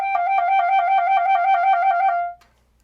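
A clarinet plays a rapid, even trill between high G and the A above, the two notes alternating cleanly for about two seconds before stopping, solo and close with no talking.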